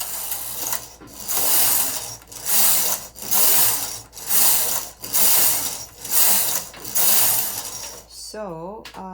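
A domestic knitting machine carriage is pushed back and forth across the needle bed, giving about eight regular rasping, clattering passes with short pauses between, close and fairly loud, followed by a brief soft voice at the end.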